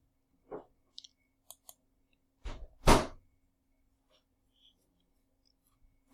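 A few sharp isolated clicks and small taps in a quiet room, with one louder thunk near the middle, faint and close, with no talking.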